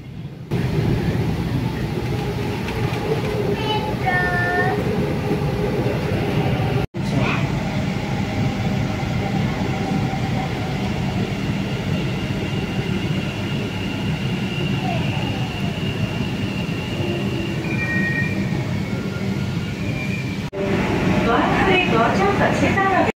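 Kolkata Metro train pulling into a station, a steady loud rumble with rising and falling electric motor whine and brief squeals, under a continuous layer of talk and announcements.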